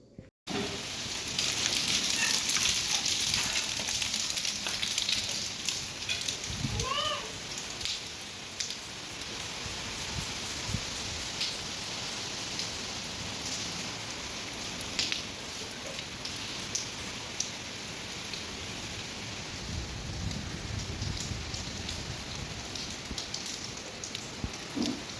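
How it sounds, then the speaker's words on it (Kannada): Heavy rain driven by strong wind pours down in Bengaluru, a steady loud roaring hiss with scattered patters and splashes that continues unbroken for the whole stretch. "ಸಖತ್ತು ಗಾಳಿ ಮಳೆ ಶುರುವಾಯಿತು."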